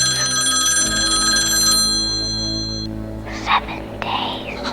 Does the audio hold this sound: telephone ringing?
yes